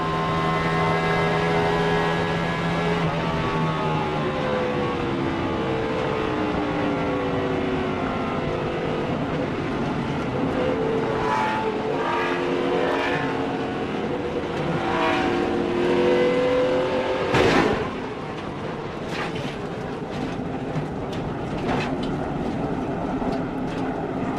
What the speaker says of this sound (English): there comes Kyle across after spinning